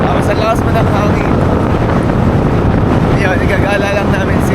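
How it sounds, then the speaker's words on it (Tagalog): Strong cold wind in the hilly Little Baguio area, a loud constant roaring buffet across the microphone, with people talking faintly beneath it. "Tapos ang lakas mo ng hangin."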